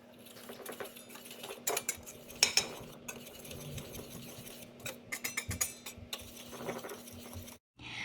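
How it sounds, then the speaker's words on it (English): A whisk beats fruit cake ingredients in a bowl, making quick rattling clinks and scrapes against the sides in uneven bursts, close and fairly quiet, then stopping briefly near the end. "Now we're just going to whisk them all until they're well combined."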